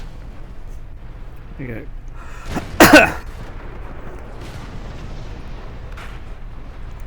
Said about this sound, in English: Got a lot of tanks around us shooting here.